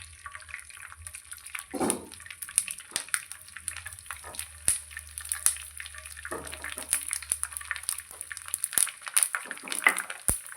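Edible gum (dink) crackling and sizzling as it fries and puffs in hot ghee, with light bubbling, scattered pops and occasional soft stirring throughout.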